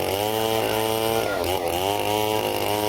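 An 8.5 hp engine-powered sawmill saw cuts through a ten-inch-wide, deep-grained hardwood log. The motor drones loudly and steadily under load for the whole stretch, with a brief pitch dip midway.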